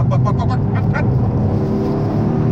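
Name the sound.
Honda Civic Type-R FK2 accelerating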